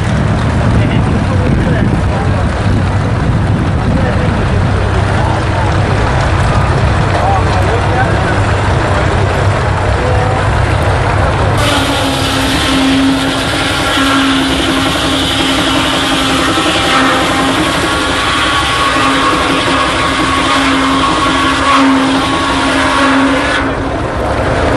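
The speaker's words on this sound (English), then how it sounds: "See the blade over here spinning?" A half-scale model machine at a threshing show in Edgerton, Wisconsin runs with its blade spinning, giving a steady loud engine drone and mechanical whir that thickens midway, with people talking nearby.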